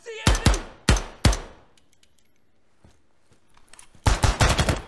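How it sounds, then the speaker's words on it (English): HK416 rifle fire in the tactical shooter Ground Branch, with three sharp close shots, a quiet gap, then a rapid burst of several rounds at the end. "I don't even remember firing 30 rounds out of that magazine"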